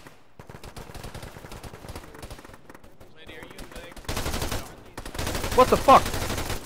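Bursts of gunfire in the tactical military shooter Arma during a ShackTac squad battle at a bunker, sporadic cracks under radio-style talk, then louder sustained automatic fire and a few sharp shots near the end.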